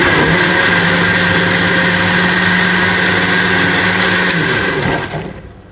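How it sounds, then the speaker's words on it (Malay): A blender grinds ingredients finely for a seri muka durian kuih, running as a loud, steady motor whine close by before it slows and winds down near the end. "Dan saya kisar."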